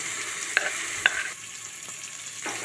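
Onions and chopped tomatoes fry in hot oil with whole spices for a mutton curry, a soft steady sizzle broken by a couple of sharp spatula clinks against the pan, with no voices.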